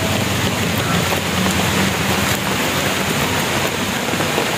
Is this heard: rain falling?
yes